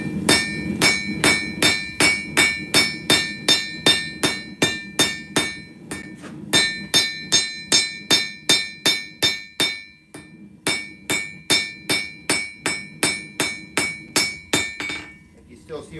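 Hammer forging a cable Damascus steel blade, a long run of evenly spaced ringing metallic blows on the anvil, loud and close, pausing briefly twice before the rhythm resumes.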